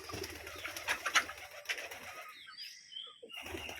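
A pair of pigeons brooding eggs on a farm coo softly nearby in a short sequence of low, throaty calls, with faint rustling and a brief higher chirp toward the end.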